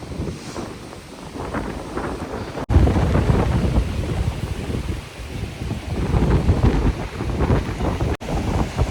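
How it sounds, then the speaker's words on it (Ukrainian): Ocean waves wash in continuously on a Lithuanian shore while gusts of wind buffet the microphone, a steady, full roar with no voices. "Я вам дарую це море."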